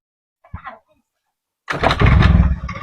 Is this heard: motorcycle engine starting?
yes